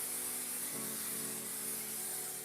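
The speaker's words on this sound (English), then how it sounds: "I'm gonna spray this with some cooking spray." A soft, steady hiss of cooking spray being sprayed continuously.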